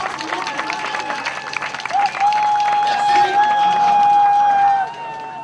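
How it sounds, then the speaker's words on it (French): A festival crowd at Festy Lékié 2017 applauds and cheers, the clapping building and swelling louder toward the end while a sustained whistle or tone runs over it. "Et on applaudit très fort."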